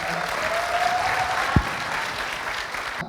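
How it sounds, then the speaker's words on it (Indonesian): Audience applause at an evening political talk event with around 350 people present, heard as steady, dense clapping throughout with one brief low thump partway through. "Tepuk tangan mana Korea."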